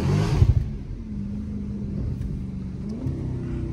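A Dodge Charger SRT 392 V8, its body damaged from a wreck, blips loudly then settles into a steady low idle rumble, with a slight rise in revs near the end, heard from inside the car.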